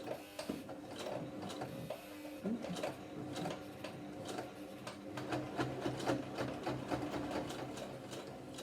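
A sewing machine stitches through thick mask fabric, a close rapid mechanical clatter of needle strokes running in bursts with short pauses between, fairly quiet and without speech.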